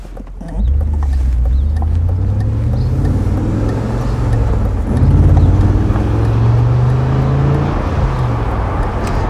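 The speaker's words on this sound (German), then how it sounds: "Hat auch einen schönen Sound, der Wagen." A 2003 BMW Z8 roadster's V8 engine rumbles close by, deep and powerful, revving up and settling back as it drives, loud and throaty throughout with no talking.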